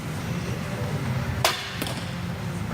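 A barebow archery arrow strikes the target with one sharp impact, and a fainter second crack follows shortly after over a steady background hum.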